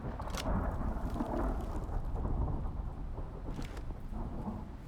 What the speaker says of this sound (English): A lot of lightning strikes.